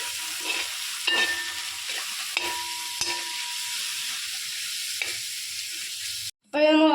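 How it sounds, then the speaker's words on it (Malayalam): Chicken curry with ginger, garlic and salt being stirred in a pan: steady sizzling frying with a spoon scraping at regular intervals, close and fairly loud, ending with a brief clattering burst. "ഇളക്കിയെടുക്കാം"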